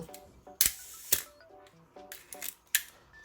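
Olympus OM-1 film camera shutter tripped several times in a quiet room, giving crisp close mechanical clacks with small clicks of the film advance between them.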